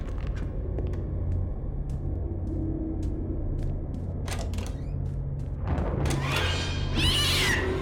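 A cat meowing in the horror video game Pineview Drive, set in a creaky house: faint, thin cries over a steady low background hum, then a louder, brighter yowling burst near the end, no speech.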